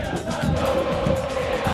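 A home crowd in a South American football stadium roars and chants in rhythm, a loud, dense mass of voices with pulsing swells, heard from within the stands.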